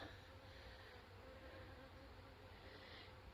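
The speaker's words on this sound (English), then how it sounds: "Ooh, bumblebees." Bumblebees buzzing on a mountain trail, a steady close droning hum that holds for a few seconds without speech.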